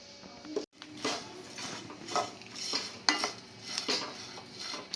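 Lentils fry in a pan and are stirred, with a soft sizzle under repeated scraping and clinking of a spoon against the metal, fairly quiet and close.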